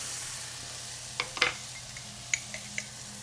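Onions and garlic softening in a hot pan give a soft, steady sizzle, with a few light clicks and scrapes from a utensil stirring them. The sound is fairly quiet and close.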